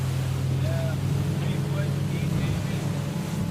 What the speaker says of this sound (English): we're smashing through the waves